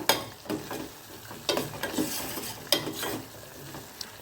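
Rasam powder frying briefly in hot oil in a pan, a soft sizzle broken by several sharp spoon scrapes and taps against the metal, close by with no voices.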